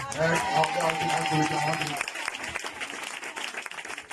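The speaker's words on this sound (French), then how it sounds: "Est-ce qu'on peut acclamer le Seigneur pour lui?" A church congregation in Bangolo bursts into loud, sustained clapping and cheering during a healing service. A voice sings or speaks over the first half, and the applause continues on its own after it stops.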